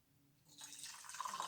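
Boiling water poured from a kettle into a test tube, a faint trickle that swells into a brighter, steady splashing flow.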